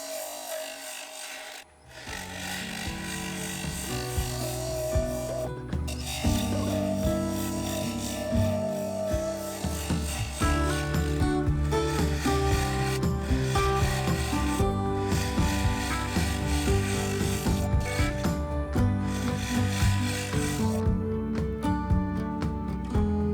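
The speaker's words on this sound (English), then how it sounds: "I used the side cutting bowl scraper to do the final shaping." A side cutting bowl scraper shapes a mahogany bowl on a wood lathe, giving a continuous rasping, scraping tone with rhythmic surges as the tool sweeps across the spinning wood, close and loud throughout.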